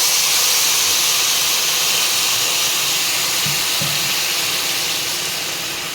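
Water poured into a hot pot of dalia khichdi hisses and sizzles loudly and steadily for several seconds, the steam fading slightly toward the end, with no voices.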